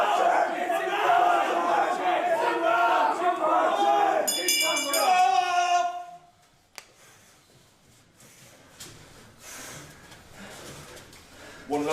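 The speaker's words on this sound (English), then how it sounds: "One loud cheer, Joe." A boxing crowd roars loudly for about six seconds, a dense sustained cheer with rising shouts, then drops away abruptly to quieter murmuring and scattered noise.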